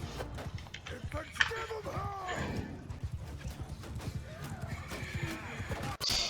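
Horse whinnies with an upward-gliding neigh amid clip-clopping hooves and busy battle noise in Mount & Blade II: Bannerlord, with voices talking throughout.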